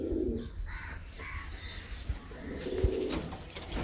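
Teddy pigeons give soft, low cooing calls at close range in a few short bursts, with quiet background noise between the calls and no one talking.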